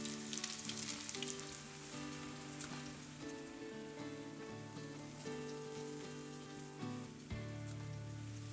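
Latkes fry in oil in a pan, giving a steady close sizzle and crackle throughout with no voices, a little louder near the end.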